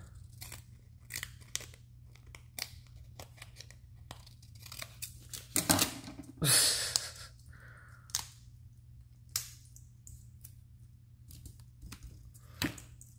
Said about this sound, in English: Probably will need another strip. I'm just going to cut a little one.